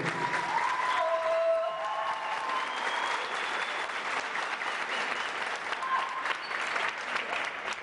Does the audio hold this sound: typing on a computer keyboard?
no